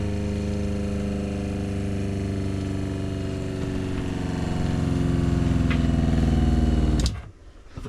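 RV water pump running steadily while priming with antifreeze during winterization, a loud close mechanical hum that drones evenly for about seven seconds, then cuts off abruptly.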